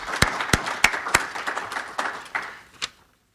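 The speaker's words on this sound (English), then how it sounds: "give a round of applause" A small group claps for a few seconds, the sharp individual claps thinning out and fading to silence.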